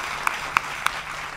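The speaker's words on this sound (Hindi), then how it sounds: "चलिए जोरदार तालियां इस बालक के लिए।" At a televised Hindi news interview event, three sharp, evenly spaced hand claps ring out for a child, crisp and fairly close over a quiet room.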